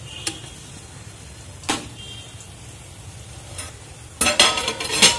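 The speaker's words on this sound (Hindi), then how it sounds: "हल्के आंच से मिक्स करना है।" Khichdi being stirred over low heat after fried onion birista is added, with a few sharp scraping strokes of a spoon in the pot over a quiet background and a busier burst of scraping near the end.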